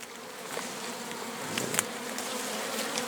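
Many honeybees hum at a hive in a steady, close drone, with a few louder buzzes as individual insects pass nearby.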